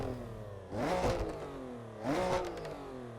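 A Porsche GT3 RS engine in a racing-game sound mod revs up twice in quick succession, each rising snarl swelling and falling back, loud and close with no voices.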